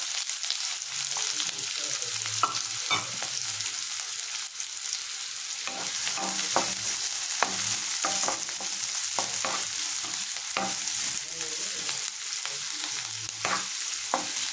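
Chopped onions sizzle steadily in hot oil in a pan for a mutton raw-mango curry. Repeated scraping stirs break through a constant, close frying hiss, with no talking.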